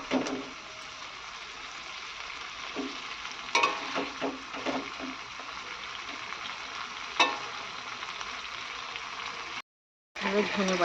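Chicken pieces frying in a spicy pepper paste for a Bengali chicken kosha, a steady close sizzle with occasional stirring scrapes and clatters, cutting out briefly near the end.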